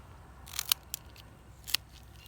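Small trimmers snip through dill stalks during a harvest, giving a few sharp, crisp cuts: a quick double snip, a lone click, then one more clean snap after a pause, close and fairly quiet.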